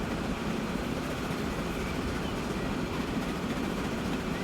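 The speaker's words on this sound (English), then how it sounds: "There's the machines train up ahead." Freight train rolling along in Transport Fever 2, a steady continuous rumble and rail noise holding at an even, fairly loud level throughout with no talk.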